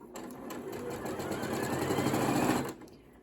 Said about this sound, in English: So again, I press start and it will immediately start stitching.